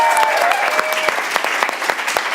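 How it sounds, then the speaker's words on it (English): A live audience at a main stage show claps in a steady round of applause, a dense, even crackle of many hands that fills the room with no voices over it. "Round of applause."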